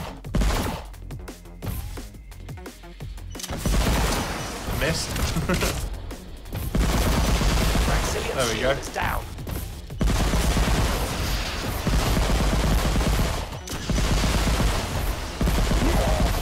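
Sustained bursts of rapid gunfire from the Unreal Engine space game AKOV - Space Bears, shooting down enemy rockets, with thuds and mechanical clatter. Someone speaks briefly at the start over quieter game sounds.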